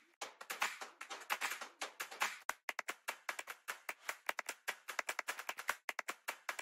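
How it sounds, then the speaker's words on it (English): Hand clap loops from an electronic sample pack built for breaks or drops in dubstep or drum and bass: sharp, loud claps repeat in quick rhythmic patterns, starting with dense rolls and thinning into crisp, evenly spaced hits, with no voices. "It contains 8 ready-to-use clap loops that work great in breaks or drops, for example, in dubstep or drum and bass music"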